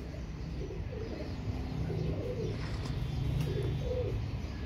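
Royal Teddy pigeons, a pair of fancy pigeons, coo softly in a repeated low rhythm close by, with steady background noise and no talking.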